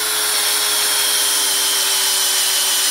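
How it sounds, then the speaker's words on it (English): A cordless drill bores steadily into a living tree trunk, a loud continuous high whine with grinding wood-cutting noise close up, unbroken for the whole stretch with no talk. "And all I do is put the drill into the tree."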